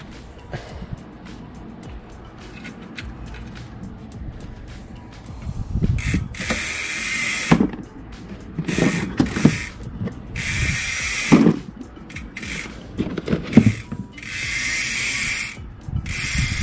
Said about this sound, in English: Now let's just put on our chain.